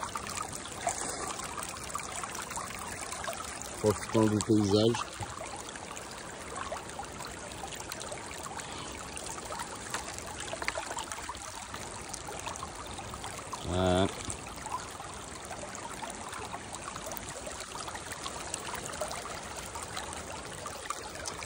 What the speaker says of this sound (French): j'ai terminé de vider le seau